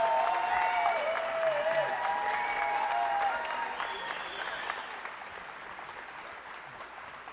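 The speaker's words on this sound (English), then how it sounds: "let's give another big round of applause to all of our 2023 Indigenous grads" Applause from a graduation ceremony audience for Indigenous graduates of 2023, soft and steady, fading gradually, with sustained tonal music or ringing sounds layered over the clapping.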